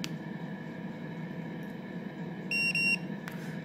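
A small pet-haul gadget gives one short, clear electronic beep after its button is held for three seconds, over steady background hiss.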